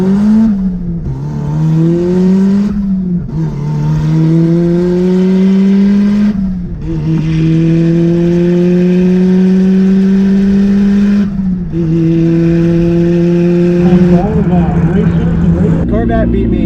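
An off-road Miata rally car accelerates hard in a drag race against a V8 C4 Corvette, its engine revving up through several gears with distinct shift dips, loud and close throughout.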